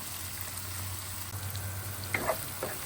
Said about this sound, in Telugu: ఇది కలుపుకొని ఇప్పుడు ఇది కూడా కొంచెం గోల్డెన్ బ్రౌన్ వచ్చే వరకు దీన్ని మంచిగా కలుపుకుందాం